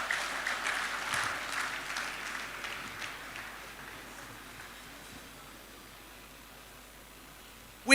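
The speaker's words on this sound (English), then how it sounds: "please, a round of applause to them." Conference audience applause at an accountants' gathering, a dense patter of many hands clapping that is strongest at the start and slowly thins out over several seconds, ending in quiet.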